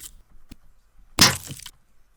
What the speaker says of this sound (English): This is the sound of a brick smashing on the ground that I edited with lots of compression.